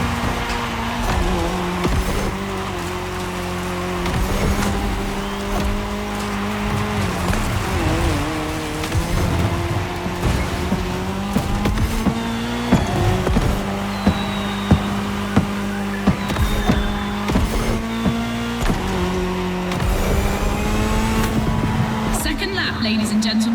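Race cars on tarmac in The Crew Motorfest: loud, continuous engine roar with rising and falling revs and gear shifts, heard under steady talk throughout.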